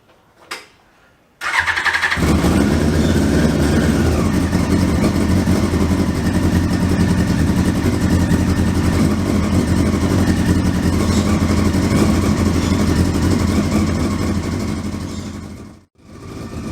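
A carbureted 1000cc four-carburetor motorcycle, unused for six months, cranks and catches, then settles into a loud, steady, slightly uneven idle close by without throttle, holding for about fourteen seconds before cutting out briefly and restarting.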